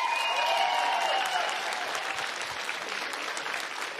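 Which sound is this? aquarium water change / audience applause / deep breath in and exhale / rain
audience applause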